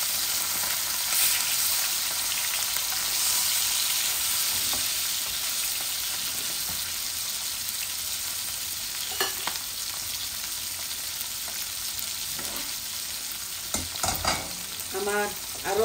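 Mirga fish fry in a generous amount of hot oil with a steady, close sizzle, broken by occasional scraping and clinking as the pieces are stirred and turned over.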